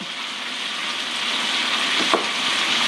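Tomatoes cooking in olive oil in a pan for lemon garlic shrimp pasta give off a steady, close sizzle that swells slightly, with a brief scrape or stir near the end and no speech.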